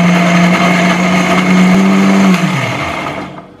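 An electric kitchen mixer grinder whirs steadily at high speed as it grinds onion pieces with water, loud and close, then winds down with a falling pitch as it switches off.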